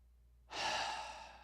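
One deep, slow breath taken during a gentle yoga flow for a tight low back, a soft, close inhale-exhale rising after half a second of quiet and fading gradually.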